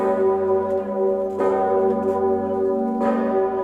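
The giant 9-ton bell of the cathedral in Kraków rings with deep, sustained tolls, three strikes spaced about a second and a half apart, each swelling into a long humming resonance.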